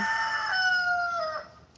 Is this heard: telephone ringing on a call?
no